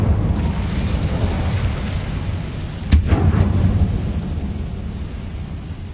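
Incendio fire spell cast in the Hogwarts Legacy video game, a sudden burst at about three seconds rising out of a loud, rumbling low-end backdrop, then a brief crackling tail.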